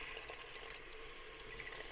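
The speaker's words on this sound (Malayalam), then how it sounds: "ഇനിയിപ്പോൾ ഇത്രയും ചേർത്തതിന് ശേഷം നമുക്ക് ആവശ്യത്തിന് വെള്ളം ഒഴിക്കുക" Water is poured into a pot of pumpkin curry being cooked, a continuous broad splashing rush that stays steady and fairly faint throughout, with no talk.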